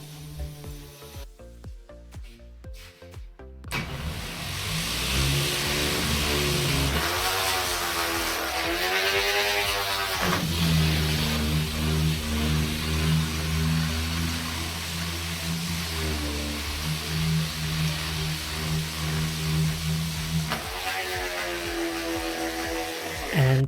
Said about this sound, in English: my sander started acting up